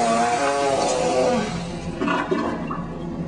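A toilet flushes with a full bag of potato chips in the bowl, a loud close rush of water that swirls and gurgles, then tapers into a softer draining trickle.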